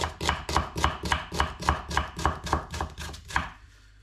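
A knife chops red onion into a fine dice on a board, about a dozen brisk, evenly spaced cuts in a quick rhythm, close and crisp, ending abruptly.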